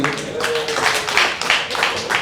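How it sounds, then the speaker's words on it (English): Audience applause for a staff member's birthday at a Jackson, Mississippi city press briefing, a few seconds of steady clapping with a voice tone running beneath it. "Let's all give her a round of applause."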